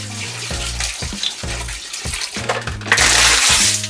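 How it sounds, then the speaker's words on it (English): Bottled water from 16.9-ounce bottles pours into a pot of chicken soup, a rushing splash that swells loudly near the end over a rhythmic background beat. "So next we'll add some water."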